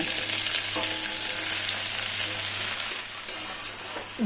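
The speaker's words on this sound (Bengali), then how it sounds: "এক চামচ সর্ষের তেল দিয়ে দিয়েছি এবার লাউ শাকটা কড়াইতে দিয়ে দেব" Bottle gourd greens frying in mustard oil in a wok, a steady loud sizzle throughout with occasional stirring scrapes near the end and no talk.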